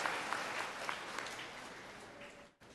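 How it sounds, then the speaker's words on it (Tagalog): A church audience, some married in the church, claps together at a homily, a fairly quiet, even patter of many hands that keeps going for a few seconds and then cuts off abruptly near the end. "Pumalakpak ng malakas."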